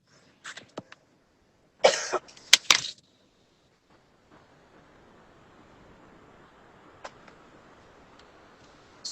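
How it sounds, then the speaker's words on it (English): Coughing from a person with a bad cold, a few short hacks followed by a louder burst of harsh, wet coughs up close, then quiet room tone with faint ticking. "Sorry, it's my cough."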